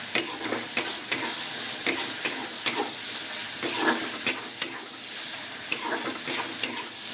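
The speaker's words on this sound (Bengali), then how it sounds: "এইভাবে নাড়ছি।" Spices with turmeric are stirred in a frying pan, where a steady sizzle is punctuated by regular sharp scrapes and taps of the spoon against the pan, about one every half second, close and moderately loud.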